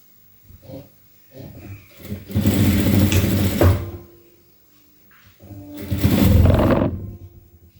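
A sewing machine stitching a blouse seam runs in two bursts: a few short starts, then a longer close, loud run, a pause, and a second steady run. No voices are heard.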